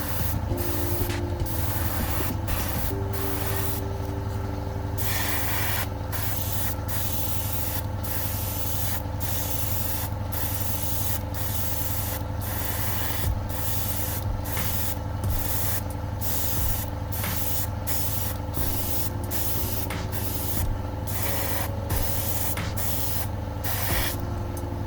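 An airbrush sprays red paint onto model aircraft seats for an Auster, a close, continuous hiss broken by frequent brief pauses as the trigger is released and pressed again.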